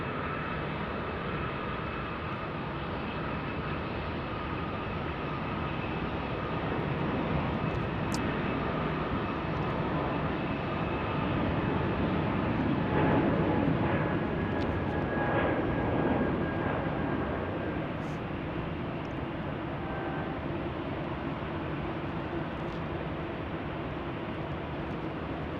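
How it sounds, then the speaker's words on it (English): An Airbus A220-100 airliner departs Salt Lake City airport with a sustained broadband jet roar at a moderate distance, swelling slightly at mid-clip and then holding steady, with no talk over it. "That's an A220-100 departing here."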